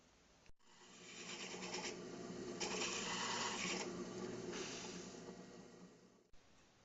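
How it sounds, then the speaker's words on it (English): A 1 inch hole saw grinds into a wooden circle in one continuous, even rasping cut lasting several seconds, starting and stopping with a brief click at each end. "on one of them I'm going to drill down with a 1 inch hole saw about somewhere into here"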